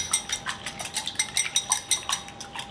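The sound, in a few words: whisking eggs in a bowl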